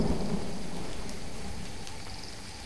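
Steady rain with rumbling thunder in a stormy island scene from Jurassic Park The Game, a continuous wash of falling water with low rolling booms, slowly fading.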